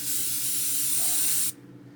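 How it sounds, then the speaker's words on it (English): A double action airbrush sprays white base coat paint onto a Tamiya 1/16 King Tiger tank turret with a steady, close hiss for about a second and a half, then cuts off abruptly, leaving quiet room tone. "a double action airbrush is handy"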